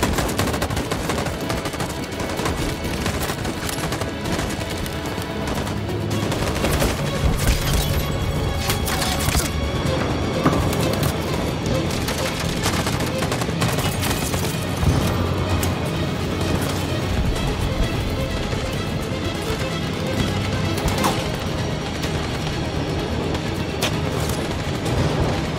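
Sustained firefight in the game Detroit Become Human: continuous bursts of automatic rifle fire with scattered heavier booms, loud and dense throughout.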